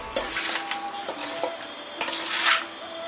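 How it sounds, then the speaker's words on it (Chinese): Soy sauce, sugar, salt and chicken essence are stirred together in a bowl as a marinade, with quick clinks and scrapes of a utensil against the dish, close and without speech. "生抽、白糖、盐、鸡汁儿。 一起搅拌均匀"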